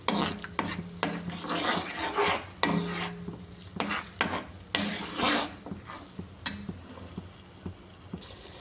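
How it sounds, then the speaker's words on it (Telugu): Ginger garlic paste fries in hot oil for a shark fish pickle while a spoon stirs it, giving a soft sizzle under repeated scraping and clinking strokes against the pan at an uneven rhythm. "అల్లం వెల్లుల్లిపాయ పేస్ట్ అయితే ఇందులో వేసేసి వేపేసుకుంటున్నాను నేను."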